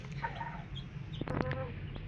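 A few short clucks from a nearby rooster over a steady low background hum.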